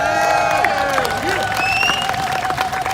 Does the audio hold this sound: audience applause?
yes